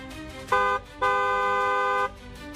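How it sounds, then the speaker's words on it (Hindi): A car horn honks twice nearby, a short toot followed by a longer sustained blast, over faint background noise. "हॉर्न बजाएं।"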